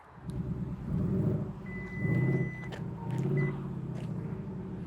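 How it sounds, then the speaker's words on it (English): A thin electronic beep from a 2025 Acura ADX's trunk walk-away close feature, sustained for about a second, then a shorter beep, over a low engine rumble outdoors. "So if you push that button, you hear a little beep."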